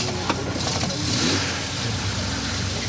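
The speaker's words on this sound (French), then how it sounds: "Après, là, je vais la faire chauffer tranquillement. Elle va tourner avant de partir." A classic rally car's engine, started on a cold morning at the Tour Auto historic event, runs steadily at a loud, rough idle while warming up, with a brief blip early on.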